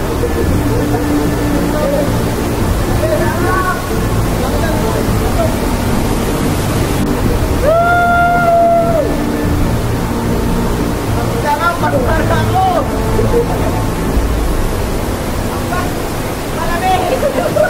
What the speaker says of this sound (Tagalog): At sa wakas, andito na tayo sa Abu-Abu Falls, isang nakatagong falls sa Barangay Kasili, Cabuyao, Laguna.